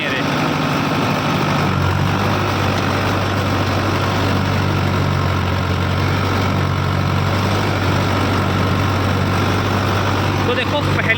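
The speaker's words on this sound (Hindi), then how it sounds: "और अब मैं कर देता हूँ इसके RPM जो लगभग 1600, ठीक है।" Powertrac Euro 60 tractor engine held at about 1600 RPM, a loud steady low diesel drone with a constant hum running the whole time beneath someone talking.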